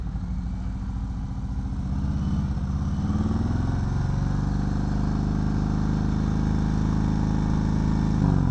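A Harley-Davidson Fat Bob and a Triumph motorcycle idling together in a riding group, a loud close steady engine rumble with a slight rise in intensity partway through.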